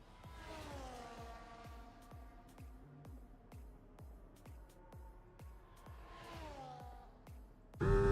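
A race car in a racing video game runs a flying lap, its engine revving up and shifting through gears in a repeating climb-and-drop pattern, steady and close, ending in a louder burst.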